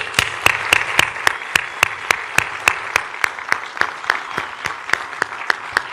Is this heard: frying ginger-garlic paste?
no